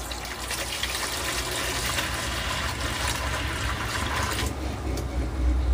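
PH-balanced water pours steadily into a bucket to soak hydroponic growing media, a continuous gushing rush close by with no talk, filling for about six seconds.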